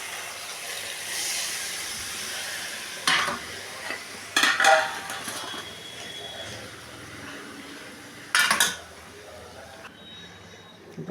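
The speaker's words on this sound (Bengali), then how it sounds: "জল অ্যাড করলাম, নাড়াচাড়া করবো।" Soybean curry being stirred in a pot after water is added: a few short scraping stirs, loud and close, over a steady cooking hiss.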